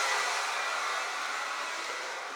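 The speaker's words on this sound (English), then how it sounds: "That's my honey under a hair dryer." A hair dryer runs steadily at close range during a leaky sink repair, a constant, even whooshing drone with no talking.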